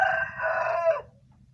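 A single drawn-out call, about a second long, from a chicken with a blocked vent, sounding close and clear over a quiet background.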